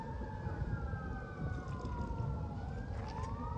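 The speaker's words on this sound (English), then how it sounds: "Siren going now." Emergency vehicle siren wailing in the distance near a home garden, a faint rising and falling tone sweeping slowly over steady outdoor background noise, heard alone without talk.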